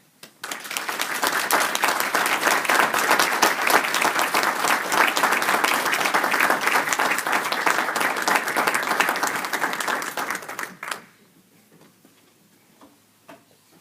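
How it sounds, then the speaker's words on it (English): Loud audience applause after a church talk: a dense, sustained burst of clapping from a gathered congregation that runs strong for about ten seconds, then stops abruptly into quiet room tone. "nice loud applause"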